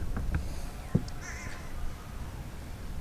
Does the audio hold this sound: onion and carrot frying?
no